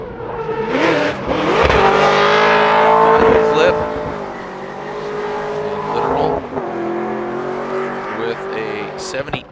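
A Nissan 350Z drift car screams through a Formula Drift qualifying run at St. Louis 2019, its engine revving hard and tires squealing loudly and continuously, with commentators talking over the roar.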